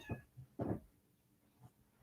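Young kittens kept in a playpen give a few short, soft meows, three separate cries spaced apart, fairly close and alone in a quiet room.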